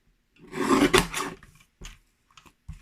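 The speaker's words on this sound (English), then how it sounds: "go really slowly and make sure I've cut one side flush too" A paper trimmer blade slides along cardstock, giving a near rasping cut of about a second. A few short scrapes follow as the trimmer and card are handled.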